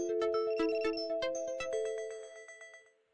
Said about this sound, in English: Sorry, is that your phone?